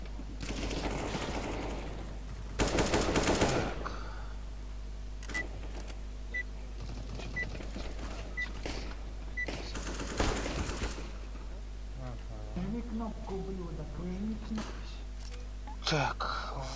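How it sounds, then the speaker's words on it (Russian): Counter-Strike: Global Offensive gameplay with rapid bursts of distant automatic gunfire and a few single shots over a constant low hum, while players talk quietly. "Они очень далеко стреляют."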